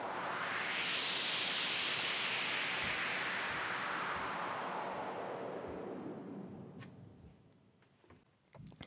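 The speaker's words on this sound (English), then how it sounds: "And this right here is your white noise sound." Synthesized white noise generated in Logic Pro X swells to a loud, bright hiss, then sweeps downward and fades over several seconds, ending with a few faint clicks.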